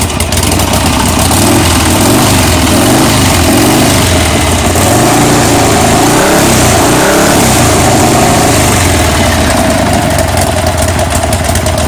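A motorcycle engine runs loud and close, with a rough, continuous idle that rises and falls in repeated revs and no voices over it.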